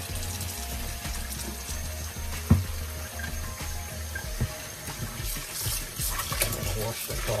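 Raw oxtail gets washed under a running tap after a vinegar rinse, steady splashing water with knocks and clinks of handling, and a voice talking over it.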